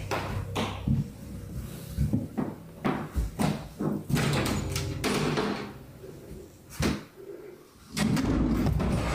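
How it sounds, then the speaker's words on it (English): A drawer flies open during a spooky indoor scene, heard as sharp, loud knocks and bangs scattered through a noisy, reverberant room with no speech. "Oh, the drawer flew open."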